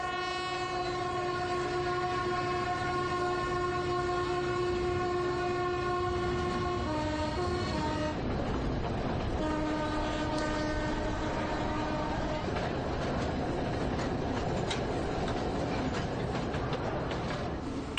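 A train on the Ecuadorian railway between Riobamba and Alausí sounds a long, loud multi-tone horn that breaks off and resumes, over a steady rumble of the cars rolling along the track.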